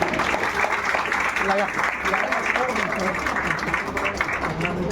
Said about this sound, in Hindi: अच्छे के लिए अच्छा ताली हो रही है